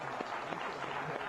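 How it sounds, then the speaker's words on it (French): Brief applause from a quiz-show audience, a quick burst of clapping that sounds slightly distant. "On les applaudit."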